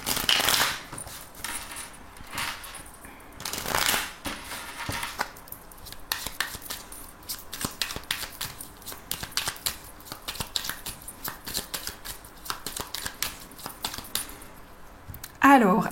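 Oracle cards are shuffled and cut by hand, giving repeated close riffling and soft slapping bursts with a brief pause and a louder handling at the end.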